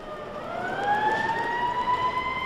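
A police siren wails steadily, its rising tone sweeping upward, loud and fairly close with no talking.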